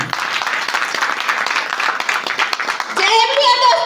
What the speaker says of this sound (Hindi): जोरदार ताली होगी